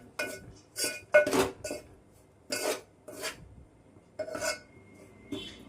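Intermittent scraping of a utensil against a metal pan while stirring ragi flour, short bursts of rasping with quiet gaps between them.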